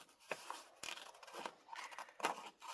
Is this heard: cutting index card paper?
yes